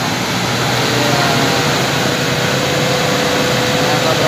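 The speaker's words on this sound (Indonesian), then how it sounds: "truk ini mencoba untuk bergerak ya teman-teman" A heavily loaded intercooler truck carrying concrete poles strains uphill at full power, a loud, steady, unbroken engine roar that fills the whole stretch.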